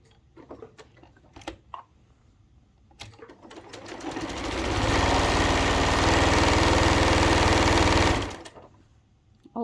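A sewing machine runs steadily for about four seconds, backstitching a reusable fabric bag after scattered handling clicks and light taps, then stops abruptly; close and loud against a quiet room.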